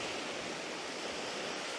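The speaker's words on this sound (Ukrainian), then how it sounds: "Така прям хвиля, друзі" Waves wash steadily over the water in a broad, even rush of noise, constant and fairly close, with no voices.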